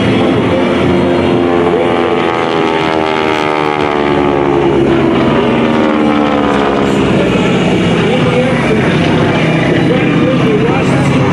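A North American T-6 Texan warbird with a nine-cylinder radial engine drones steadily at an airshow, its loud rumbling roar holding throughout with shifting tonal bands as it passes, while crowd noise and voices mix in.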